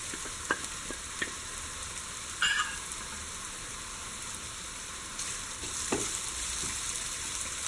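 Chopped ginger and garlic frying in hot oil for a Kerala-style beef cutlet, a faint steady sizzle with a few sharp clinks of stirring and a brief louder burst of spatter partway through.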